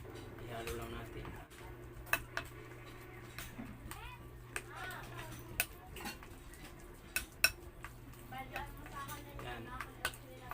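Lumpia shanghai filling being stirred by hand in a bowl with a little flour added, giving soft repeated clinks and scrapes of utensil against the bowl over steady background hum, with sharper taps now and then.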